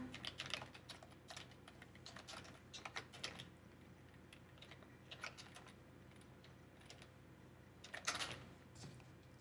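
Quiet, steady typing on a computer keyboard while entering details into an online sign-up form, with irregular keystroke clusters and a few sharper clicks, no voices.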